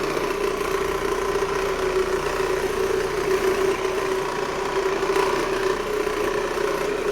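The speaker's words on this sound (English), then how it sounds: "What I'm doing now is buffing out the floors with a polishing pad." A floor buffer fitted with a polishing pad runs across a hardwood floor to strip old wax, producing a continuous, even motor drone with a steady mid-pitched hum and no pauses.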